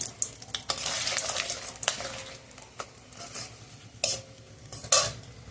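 Whole spices, bay leaf, cinnamon, cloves, dried chillies and cardamom, hit hot oil in a pan for a chicken curry, giving soft sizzling with scattered stirring scrapes and utensil clinks at close range.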